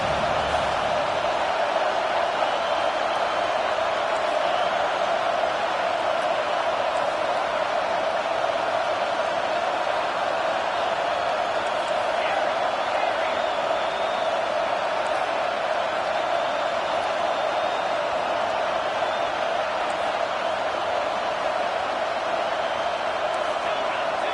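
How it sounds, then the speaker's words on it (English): Football stadium crowd roaring steadily as the defense holds in the red zone, a dense sustained wash of voices with no pause, far and broad, with a commentator talking over it. "And the crowd coming to life here, trying to help this defense down in the red zone."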